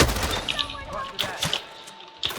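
Gunfire in the video game Hitman 3 comes as several sharp, separate shots spread over a couple of seconds, with fainter game sounds and voice-like tones between them.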